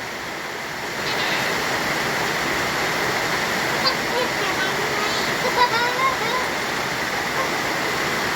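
Heavy rain pours down onto a field hut in a steady, loud roar that swells after the first second and keeps a dense hiss throughout, with soft voices faint beneath it.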